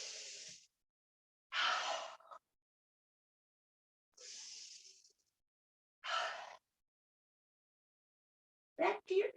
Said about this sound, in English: Now I'm breathing very audibly as a teacher to convey the breath.